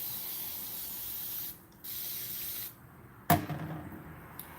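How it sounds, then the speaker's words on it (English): A spray bottle mists water onto a person's hair during detangling, giving two long, steady hissing bursts close by, followed by a sharp click and a few softer rustles. "I'm going to spray her hair with some water."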